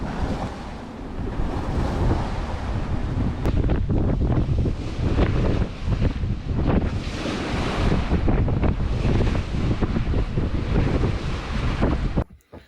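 Strong gusting wind up to force 7 roars against a microphone on a moving boat over sloshing water and surf, loud and continuous throughout, ending abruptly.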